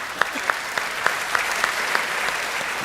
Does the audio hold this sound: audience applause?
yes